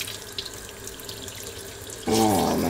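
Water pours steadily from a homemade tap fitted to a dog jacuzzi, starting abruptly near the end as a loud, close gush that runs without stopping.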